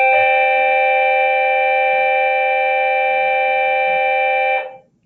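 A classroom electronic school bell rings during a math lesson: one steady, loud, buzzy tone holds unbroken for about four and a half seconds, then cuts off quickly, leaving quiet.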